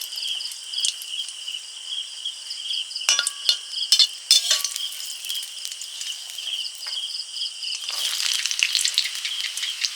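Bay leaves and dried red chilies sizzle in hot oil with a steady, bright hiss, broken by a few sharp clinks and a louder crackling surge near the end.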